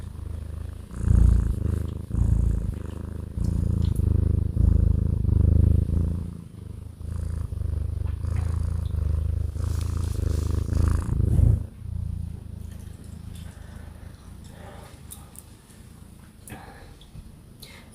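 A cat purrs close up in a steady, rumbling rhythm that swells loudly at first, then settles into a softer continuous purr with a few faint rustles.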